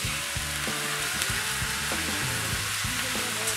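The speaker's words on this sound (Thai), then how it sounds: "เห็ดผัดอิชิตันอาจจะอร่อยก็ได้นะครับ" Mushrooms stir-frying in a pan with Ichitan bottled drink added, a loud continuous sizzle with scraping stirs and utensil knocks, close up and with no voice.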